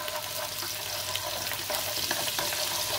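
Garlic fries in hot oil in a pot while making Khmer green papaya soup, a steady close sizzle that holds evenly throughout with no talking.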